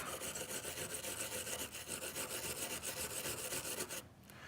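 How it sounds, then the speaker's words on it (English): A rust-covered pocket knife found in the street being scrubbed clean, a continuous close, rasping brush-on-metal scrub with a quick back-and-forth rhythm, stopping just before the end. "We'll just kind of scrub the whole thing and give it a good cleaning."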